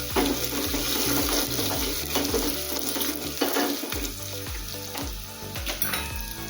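Loud, continuous sizzling of a tempering of asafoetida and dried red chilies hitting hot oil, crackling and spitting steadily throughout, with a few soft stirring scrapes.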